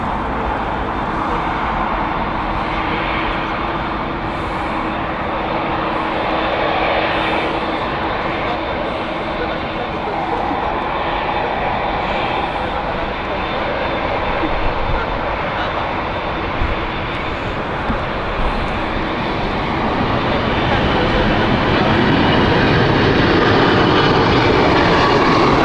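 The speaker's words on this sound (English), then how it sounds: "And then Vancouver is next with the 777-300 coming into view." A Boeing 777-300 arriving from Vancouver and landing at Heathrow Airport, its engines giving a sustained roaring rush that builds slightly toward the end, with a person talking over it at times.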